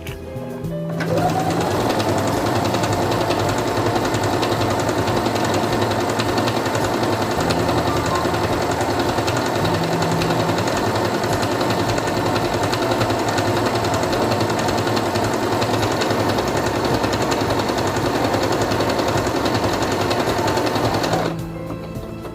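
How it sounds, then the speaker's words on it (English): A Singer Quantum Stylist 9960 sewing machine stitches fabric in one long, steady run, a loud, close, even buzzing hum of rapid needle strokes that starts abruptly and stops cleanly after about twenty seconds. "Place it under the presser foot, lower it, and begin sewing."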